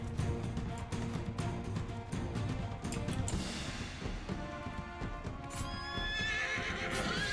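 Horses gallop with rapid, busy hoofbeats and loud neighing in a Mount & Blade tournament battle, mixed with clashing, chaotic noise throughout.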